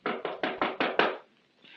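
Six quick, evenly spaced knocks rap on a door in a radio drama, loud and close, followed by a short pause with no talking.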